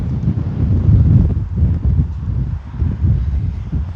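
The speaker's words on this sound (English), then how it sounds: "Yeah, the wind is having its way with her today. It is windy." Wind gusts buffet the microphone at an outdoor field while a Dynam Tucano RC plane is flown, a loud low rumbling roar that swells and eases in uneven waves.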